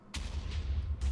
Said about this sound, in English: Oh my god, biggest explosion of your life.